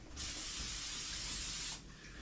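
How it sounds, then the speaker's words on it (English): A single sustained hiss of cooking oil spray from a can onto an air fryer pan, lasting under two seconds, close and loud against a quiet kitchen background. "Don't forget to spray the bottom"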